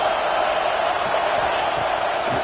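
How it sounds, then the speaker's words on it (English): A stadium crowd at a college football game between Georgia and Ole Miss keeps up a dense, steady roar that fills the space for the whole stretch, with no single voice standing out. "Listen to the crowd energy here in the early going."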